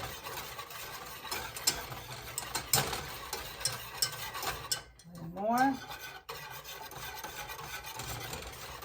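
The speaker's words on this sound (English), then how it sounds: "Last one's taking a little bit more stirring." A spoon works through a thick gummy mixture in a pot, giving steady, close scraping and rubbing strokes with soft clicks, briefly interrupted midway by a quick rising squeak.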